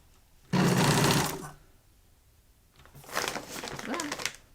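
A sewing machine runs a straight stitch through a feed sack in two close, loud bursts, a short whirring run followed by a longer one after a brief pause.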